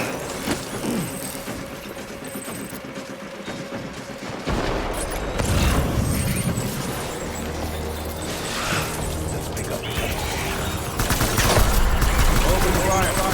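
Dense gunfire from Death Stranding combat, with overlapping bursts and booms that keep up steadily for the whole stretch and swell louder toward the end.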